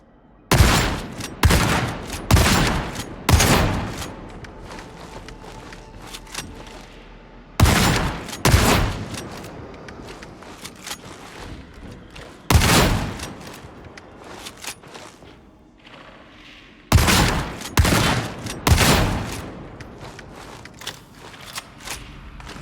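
Shotpistol buckshot fire from the Arbites class in Warhammer 40K Darktide, heard as loud bursts of rapid blasts in four clusters, each a quick string of booming shots trailing off, with gaps of quieter game ambience between.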